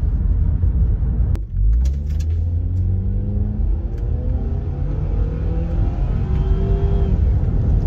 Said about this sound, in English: So I should be able to do a quick 0-60 because I'm on a very, very quiet road